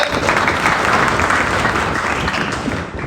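Steady, dense clapping from an audience at a Srimad Bhagavatam religious class fills the whole stretch, loud and continuous, easing off only slightly near the end.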